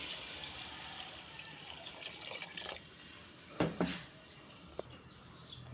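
Water pours steadily into a pan of browned chicken feet, a continuous close splashing rush with a few sharper spills near the end.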